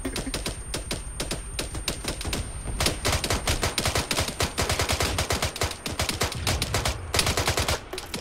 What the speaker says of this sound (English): Fire on Reaper!